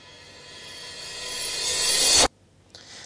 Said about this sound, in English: And then here we have a reverse cymbal.